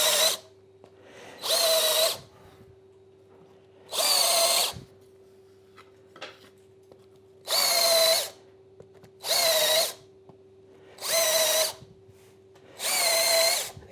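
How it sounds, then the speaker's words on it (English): A power drill countersinking screw holes in wood for trestles, in seven short bursts of about a second each, evenly spaced and alone, with a steady low hum between them. "I'm going to countersink now. This is to take the head of the screw so they don't stick out."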